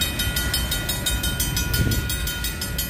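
A BNSF freight train rolls past at close range, a continuous loud rumble with a regular rhythmic clatter of wheels over rail joints and no voices.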